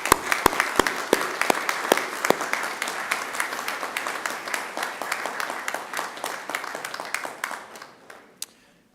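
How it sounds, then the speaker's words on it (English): Graduates at a Macquarie University graduation ceremony applaud their friends and family, loud sustained clapping from a large hall crowd with sharp individual claps up front, gradually thinning and fading out toward the end. "give them all a round of applause and appreciation"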